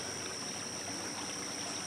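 A creek flows steadily with a soft, continuous rushing and trickling wash. It is faint and even throughout, with no voices.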